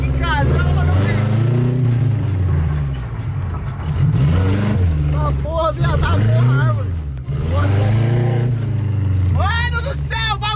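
A Chevrolet Chevette rolls up at home, its engine droning low and swelling through repeated revs as it arrives, with people talking loudly and excitedly over the motor throughout.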